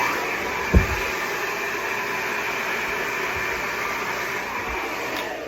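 Hair dryer set to high speed and high heat blows a steady, loud airy whoosh throughout, with a brief thump near the start and no talking.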